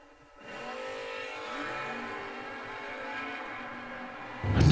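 A Mustang Mach 1 drag car with a footbrake setup does a smoky burnout up on the mountain, its engine holding a steady, fairly distant droning roar, before a louder burst of noise flares up in the last half second.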